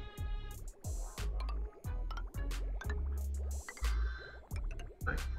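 Water drains away in Oxygen Not Included with repeated wet gurgling, dripping and squishing pulses, a rhythmic liquid churn of rising and falling bursts heard alone at low volume.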